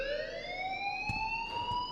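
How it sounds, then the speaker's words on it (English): An alarm rings in the Life is Strange video game, a loud, steady electronic tone with rich overtones sounding continuously, while faint knocks and thumps punctuate it a few times. "please turn off that alarm since that's your job"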